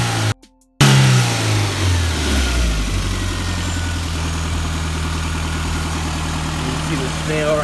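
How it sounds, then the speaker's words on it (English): A car engine idles loudly up close, then revs up and holds a steady throaty drone after a brief silence. "But let me give you a little rev."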